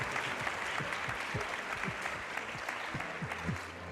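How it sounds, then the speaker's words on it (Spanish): Steady, dense applause from an audience at a health talk in Córdoba, honouring students and teachers from nine schools across the province; it holds at an even level for the whole stretch, with no voices over it. "Un fuerte aplauso para todos vosotros, alumnado, profesorado,"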